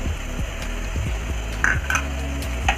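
Green chillies are stirred in a frying pan with a utensil, giving soft scraping and clinking strokes over a steady low sizzle. Nobody speaks.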